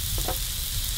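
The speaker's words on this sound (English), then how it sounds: "Let's check on the steak. It's real sizzling, real nice." A steak fries in a pan at a campsite by Taylor Lake in Gatineau Park, giving a steady, soft hissing sizzle with a couple of faint clinks, close and without talk.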